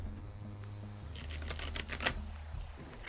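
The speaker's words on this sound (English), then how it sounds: "So we're going to have to shuffle the cards." A deck of cards shuffled during a Discordian religious service, a brief papery riffle of quick crisp flutters in the middle of the clip over a low steady hum, with no talking.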